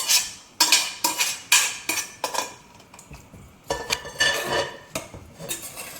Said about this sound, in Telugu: నేను కొంచెం సేపు ఈ గ్రేవీని పాట్లో వేసి